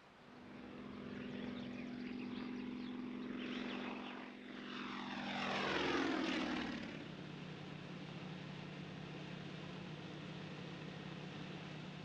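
An agricultural spraying airplane with a propeller engine passes low over a forest, droning steadily as it approaches, swelling loud overhead with a falling pitch sweep, then fading to a distant hum.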